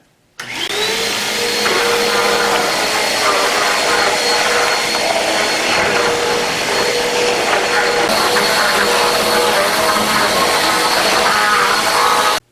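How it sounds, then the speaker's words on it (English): A vacuum cleaner switches on and runs with a loud, steady whine and roar as it sweeps across a martial arts puzzle mat, close up and continuous with no talk. "So make sure you get a thorough vacuuming of the entire area, get all the corners and in between the cracks of the mat."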